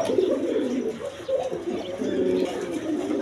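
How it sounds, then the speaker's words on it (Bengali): A pair of Rasgolla pigeons, a male and a female, coo steadily in low, throaty rolling phrases that run through the whole stretch at close range with no talking. "এখানে এক পেয়ার রাসগোল্লা কবুতর আছে দেখেন"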